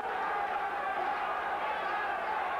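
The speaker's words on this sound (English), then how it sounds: "I noticed the tempo of the crowd pick up and the fight itself" Boxing arena crowd at a light-heavyweight bout, a steady dense roar of many voices swelling slightly, continuous and fairly loud with no clear break.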